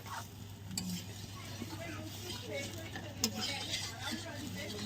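Mutton curry is stirred in a pot just after water is added to the browned meat: steady scraping and swishing with a faint sizzle and a few sharp clinks of the spoon against the pot.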